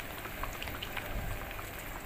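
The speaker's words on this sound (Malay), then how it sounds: "bahan kisar tadi kita tumis" Ground rendang spice paste sautés in a wok for beef and chicken rendang, making a faint, continuous crackling sizzle with small popping bubbles and no talk.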